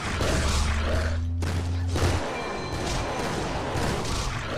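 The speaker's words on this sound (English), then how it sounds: "I shall shoot everything with my shotguns of death." Shotguns firing in the RWBY video game, a dense burst of booming blasts with a low droning tone in the first half, then continuing rapid gunfire and combat clatter, loud and close, with no voices.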